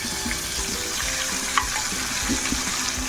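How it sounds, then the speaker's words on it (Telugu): Onion, ginger, tomato and curry leaves fry in a pan for semiya upma, producing a steady close sizzle and hiss with faint scattered crackles and no speech. "ఇప్పుడు దీంట్లో ఆనియన్, అల్లం, టమాటా, కరివేపాకు ఇవన్నీ వేసుకొని బాగా వేపుకోవాలి"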